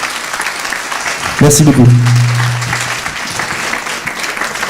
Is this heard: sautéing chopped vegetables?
no